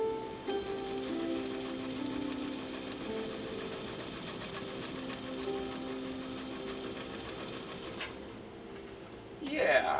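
A Japanese Viscount Model 929 sewing machine stitches a zigzag at a steady, rapid mechanical rhythm for about eight seconds, running close and fairly loud before stopping, with a brief handling noise at the end.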